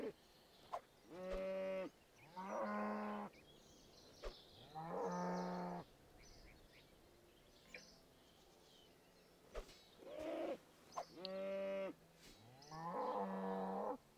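Cows moo in a video game, several separate drawn-out calls spaced across the scene with short gaps and faint clicks between them.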